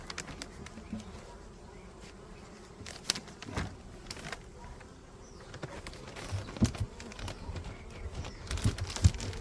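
Steady low buzzing of honeybees crawling over their hive, like a swarm, with scattered brief knocks and rustles.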